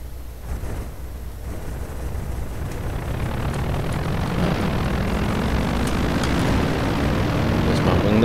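A fighter plane's engine in the IL-2 France flight simulator throttles up on the runway, a rising propeller drone that grows steadily louder and fuller over several seconds, close and continuous.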